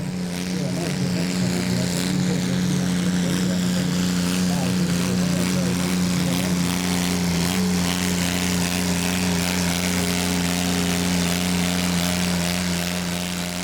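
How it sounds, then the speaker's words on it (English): A pulling tractor with a Kubota 722 engine at a Danish tractor pulling championship round in Frederiksund drones loudly and steadily throughout, with a voice talking over it. "It's a Kubota 722 engine."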